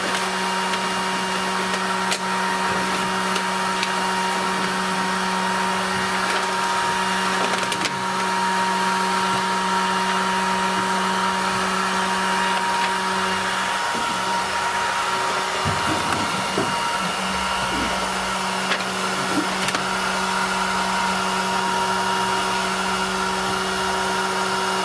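A heat gun blows a steady, constant hiss and hum while warming ice and water shield sound-deadening material in a car during restoration, unchanging throughout and heard close with no talk.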